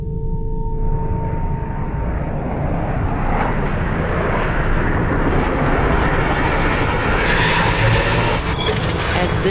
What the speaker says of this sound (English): As this single-seat FA-18 Hornet traps, the arresting cable stretches to the breaking point.